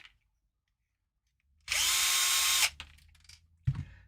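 A power drill runs in one steady burst of about a second, whining as it backs screws out of a radio-control crawler, followed by a few clicks and handling noises.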